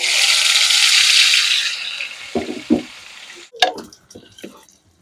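Potol (pointed gourd) drops into hot oil with a loud hiss that fades, followed by several scraping, clattering stirs of the pan.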